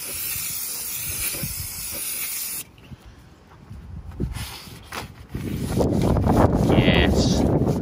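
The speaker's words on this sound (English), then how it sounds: "I need to clean the area in question using brake parts cleaner." An aerosol can of brake parts cleaner sprays onto a car bonnet area before fitting an LED hood light strip, with a loud hissing burst, a quieter pause with small handling noises, then a longer, louder continuous spray.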